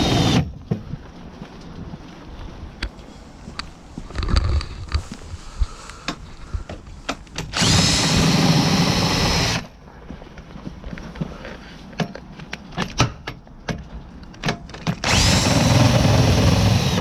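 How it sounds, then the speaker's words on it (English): A power drill winds down the legs of a 2016 Pastiche 460/2 caravan, its loud whirring bursts coming in two long runs amid intermittent clunks and clicks. "What I'm going to do is going to get my drill."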